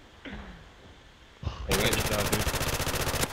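Rapid automatic gunfire from a shooter video game bursts in after a quiet stretch and keeps going as a loud, dense rattle, with players talking faintly underneath.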